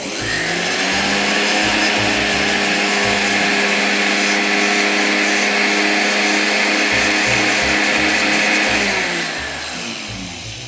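A kitchen blender running with salt inside to sharpen its blades, a loud, steady, close motor whine with gritty rattling that holds for about nine seconds before winding down at the end, with no talk.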